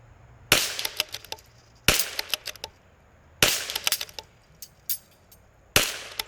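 A CZ 457 .22LR rifle fires four sharp, cracking shots spaced a second or more apart, each followed by faint ticks and pings in an otherwise quiet setting.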